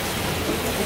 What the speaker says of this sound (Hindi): और यहाँ पे बहुत ज्यादा बारिश हो रही है